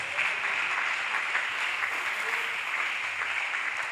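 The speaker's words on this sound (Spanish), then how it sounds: "Que le den un aplauso al Señor." Church congregation at an IPUC service applauds in a continuous, even roar of clapping, moderately loud and held steady without pause.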